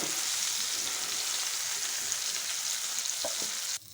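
Garlic cloves frying in hot oil with a few other whole spices, a dense steady sizzle throughout that cuts off abruptly near the end, with a couple of faint clinks.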